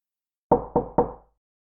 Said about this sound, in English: Someone at the door. At the front door, off of the kitchen.